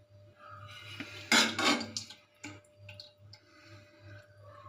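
Spoon or fingers scraping and clinking on a plate while someone eats rice with potato curry, a few close, sharp clatters and soft taps in a quiet room with a low steady hum.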